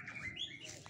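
A young magpie robin (murai) chirps and whistles in short bright phrases close by, with faint background hiss and no talking.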